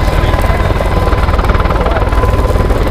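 A Mi-26 heavy helicopter at the MAKS-2011 airshow gives off a loud, steady rotor and turbine roar with continuous rapid blade thumping, close and unbroken throughout.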